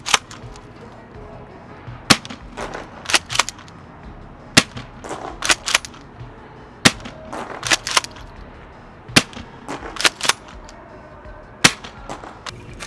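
An ASG SPAS-12 airsoft shotgun fires BBs at a range target, giving sharp, sparse pops that come singly and in quick pairs or triplets over a low background, with no talking.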